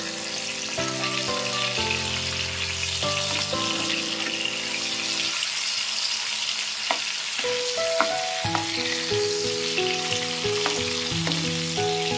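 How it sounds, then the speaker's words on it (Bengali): Fish frying in a pan after being flipped gives a continuous close sizzle with occasional stirring and crackle, while background music with sustained tones plays throughout. "মাছটাকে একটু উল্টিয়ে নেব। এইভাবে দেখি ভাজবো।"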